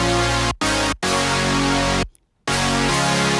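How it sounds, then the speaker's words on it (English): A lush Grey Area synth patch called Chord Chill Out, used for future bass chords, rings out as sustained chords broken by brief cut-outs, then a short silence before the chord returns loud and alone. "it is a patch from Grey Area called Chord Chill Out."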